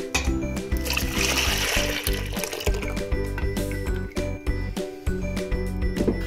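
Strained milk is poured back into a cooking pot, a steady splashing and trickling stream with light metallic clinks, close and continuous throughout.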